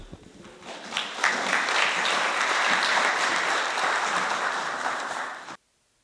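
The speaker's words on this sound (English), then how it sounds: "because you already applauded the presenter." An audience at a forum on restoring degraded forests in Kenya applauds a presenter, building quickly into a sustained wash of clapping that holds steady, then cuts off abruptly near the end.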